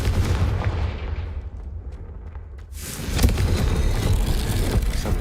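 A fire spell cast in a video game builds as a rising whoosh, then bursts into a loud, broad explosion followed by a sustained roaring rumble.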